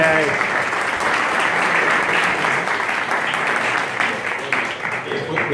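Audience applause at a round-table panel discussion on programmatic advertising and measurement, steady and fairly loud clapping from a crowd throughout, with some voices mixed in.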